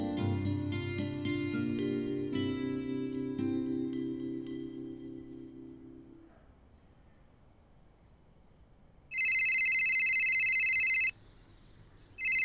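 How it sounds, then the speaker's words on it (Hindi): A phone rings indoors in a home drama scene, a bright electronic ring sounding once for about two seconds after music fades into quiet. "तेरा फोन"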